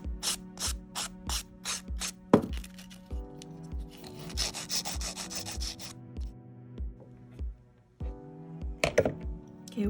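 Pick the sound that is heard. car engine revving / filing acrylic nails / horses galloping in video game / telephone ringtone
filing acrylic nails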